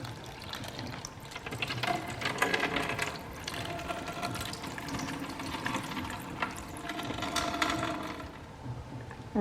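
Water trickles and splashes steadily through a small model river channel, carrying grains of rice along the bed, a soft continuous babbling with light gurgles close by.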